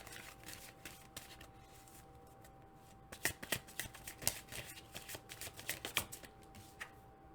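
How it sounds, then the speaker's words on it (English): A tarot deck being handled and shuffled to pull an advice card: soft paper riffling at first, then a quick, busier run of crisp card flicks and snaps, close and quiet. "I'm going to pull an advice card"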